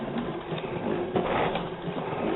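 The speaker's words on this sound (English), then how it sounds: "We have a 6-to-1 gear ratio, and we got the hand cranks on it." A hand-cranked generator with a 6-to-1 gear ratio whirs continuously as it is cranked, a close, steady mechanical hum with faint rhythmic surges and no talk.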